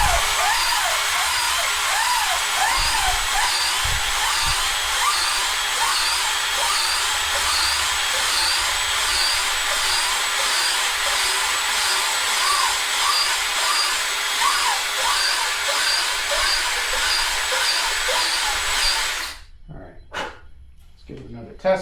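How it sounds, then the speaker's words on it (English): Power-driven reamer boring out a fishing rod grip, a steady whirring drone that runs for about nineteen seconds and then cuts off, leaving a few brief knocks. "So I stepped it up to the next size reamer."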